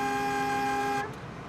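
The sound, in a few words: congested city traffic with car horns honking in Bengaluru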